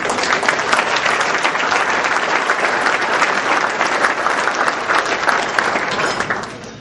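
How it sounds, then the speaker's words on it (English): Loud, sustained round of applause from a dinner audience at a political party fall dinner, dense clapping that holds steady before tapering at the end. "I got to give yourselves a round of applause."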